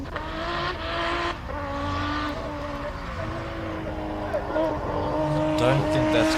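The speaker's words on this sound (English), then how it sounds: "Don't think that's quite how you want to launch a car." A race car at a hill climb event launches hard with screeching tire squeal and a revving engine, sustained and loud, as spectators and a commentator talk over it.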